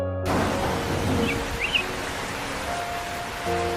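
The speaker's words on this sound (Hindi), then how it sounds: "देखो बारिश होने लगी" Rain begins falling on a farm field in an animated crow cartoon, a steady broadband hiss with a faint chirp or two over it.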